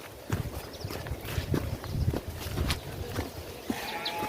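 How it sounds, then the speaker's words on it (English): Goats on a rural dirt path in Africa, with scattered hoof clatter and shuffling close by against a busy outdoor background. "So there are goats here"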